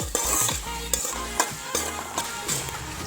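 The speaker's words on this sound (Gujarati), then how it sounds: "સમારેલા મરચાં નાખી દઈશું જો તમે તીખા મરચાં ખાતા હો તો તમે તીખા મરચાં પણ નાખી શકો છો બધા મસાલાને સાંતળી લઈશું" Chopped chillies, ginger paste and spices sauté in a pan, a hissing sizzle broken by repeated stirring scrapes and knocks of the spoon, near and continuous without talk.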